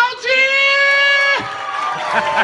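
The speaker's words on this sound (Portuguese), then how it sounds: "Pode aplaudir!" An audience at a drag-show birthday party cheers, with a sustained high whoop first, then a noisy wash of crowd applause and shouting.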